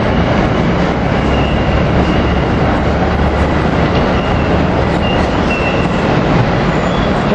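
A long Amtrak train of Amfleet II coaches, a cafe car, a dining car and Viewliners rolls through 30th Street Station in Philadelphia. It makes a loud, steady, close roar of wheels and rattling cars with faint squeals, and no voices.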